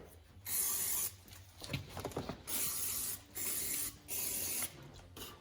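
Brake cleaner hisses from an aerosol can in several long bursts onto the carburetor intake of a 40-year-old motorcycle, close and loud, with short pauses and some rubbing handling noise between sprays.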